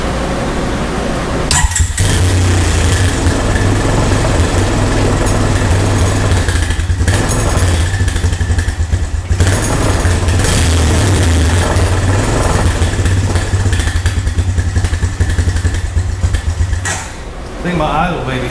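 An ATV engine idling low and uneven, a steady putter with short revs and people talking over it, then cutting out near the end.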